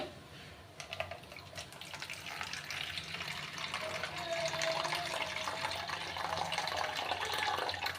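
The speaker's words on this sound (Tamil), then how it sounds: "தேங்காய் பாலை ஃபில்டர் பண்ணிக்கோங்க" Freshly ground coconut milk being filtered, with a continuous wet pouring and splashing of liquid that builds slightly and stays steady at close range, with no voices.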